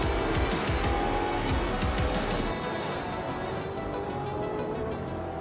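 A Ferrari F50 and a 288 GTO race in a video game, their engines droning with quick rhythmic revving pulses at first, then settling into a steadier, softer whine.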